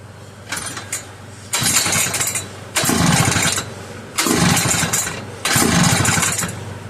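A McCulloch 1-52 chainsaw engine sputters into life in repeated loud bursts, each lasting about a second or more with short dips between, a rough, raspy two-stroke racket close up.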